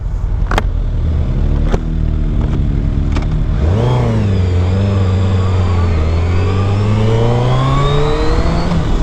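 A 2022 Suzuki Hayabusa sport motorcycle engine revs up and pulls away at a raceway, pitch rising steadily as it accelerates, loud and close, after a few sharp clicks and knocks.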